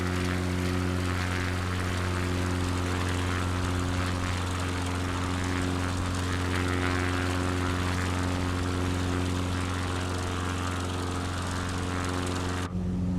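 Steady, loud propeller-engine drone of a CC-19 X-Cub bush plane in Microsoft Flight Simulator 2020, a continuous hum with strong low harmonics held unbroken throughout and cutting off abruptly at the very end, with no talking.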